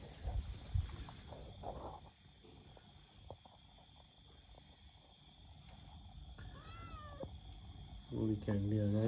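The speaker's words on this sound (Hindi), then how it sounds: "ज्यादा ही फ्रेंडली होने की कोशिश कर रही है ये बिल्ली" A cat meows and purrs close by, with soft murmuring and rustling in between, while a person talks over parts of it; a louder harmonic meow sweeps upward near the end, followed by a sustained voiced cry.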